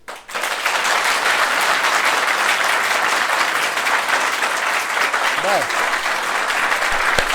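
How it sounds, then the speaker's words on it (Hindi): Sustained, dense applause from a large group of students fills the room, steady and loud throughout, with a brief voice speaking near the start and a faint voice briefly heard over the clapping. "अपने लिए जितनी तालियां बजा सकते हो मन से बजाओ"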